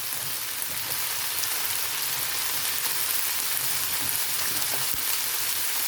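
Batbout dough fries in hot oil, giving a dense, steady sizzle that is loud and close, with no break or talk over it.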